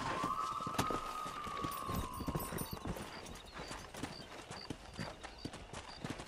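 Horse hooves clip-clop at a steady rhythmic gallop in the Red Dead Redemption video game, close and continuous, with a brief whinny early on and faint voices.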